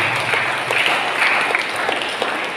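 A church congregation at a Holy Mother of Immaculate Conception feast claps steadily and densely for the full stretch, a continuous wash of many hands with no talking over it.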